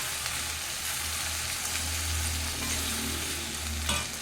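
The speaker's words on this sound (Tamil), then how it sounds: "உப்பு சேர்த்து இதை கிண்டி விடணும்" Mixed vegetables with green chili and salt stirred in a pan for a tangy vegetable thokku, giving a steady low sizzle with occasional soft scraping strokes, close and alone with no talk.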